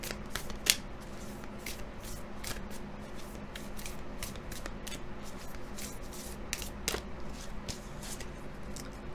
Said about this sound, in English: Now I'm going to pick up my deck and we'll draw 2 of these and see what else we get for you.